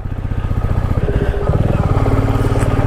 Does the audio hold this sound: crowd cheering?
no